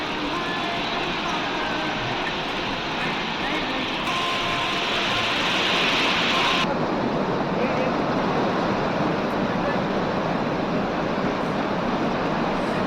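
The flooded Bhagirathi river roars at Gangotri Dham in a loud, unbroken wash of rushing water that holds steady throughout, with a brief brighter hiss in the middle.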